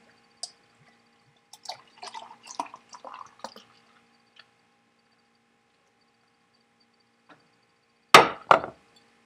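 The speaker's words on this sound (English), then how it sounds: "Had to get a little aggressive on the pour, but it's actually picking up a head." A crack and pour of a beer brewed with vanilla beans into a glass: scattered clicks and fizzy bursts early, quiet stretch, then a loud close splashy gush near the end, no talking.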